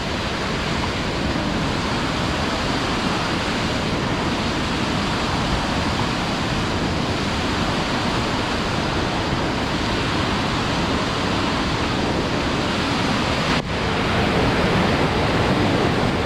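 A swollen mountain river torrent in Meghalaya during rain, roaring as a continuous dense rush of water heard from a bridge, loud and unbroken for the whole stretch, with no voices.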